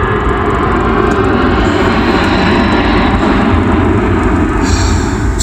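A loud, continuous engine roar of airplanes flying over Las Vegas fills the air, broad and unbroken for several seconds, with no voices.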